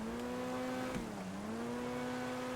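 Car engine in GTA 5 holding a steady, loud rev that briefly dips and recovers partway through, heard up close and on its own.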